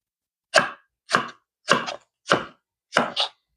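Ginger root sliced lengthwise with a knife on a cutting board: five crisp, close chops, evenly spaced about half a second apart, some with a quick double strike, alone with no talk.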